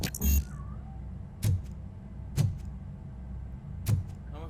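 A cat meows in the Robocop: Rogue City video game, one short meow at the start followed by a few soft thuds against a low, steady ambient background.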